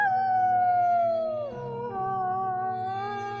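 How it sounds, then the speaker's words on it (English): A single wolf howl on the open prairie, one long sustained wavering tone that slides downward, breaks, then rises and holds again, loud and close with no talk. "The big wolf lifted his nose to the sky and howled."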